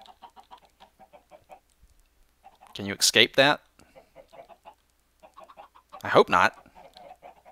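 Chickens in Minecraft give two short bursts of loud clucking, separated by a pause, while someone talks quietly between and around them.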